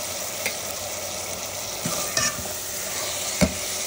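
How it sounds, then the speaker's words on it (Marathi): Tomato, green chili, salt and turmeric fry for crab masala in a steady, loud, close sizzle, broken by occasional scraping stirs of a spoon in the pan, with no voices. "पहिलं चांगलं फ्राय करायचं आहे।"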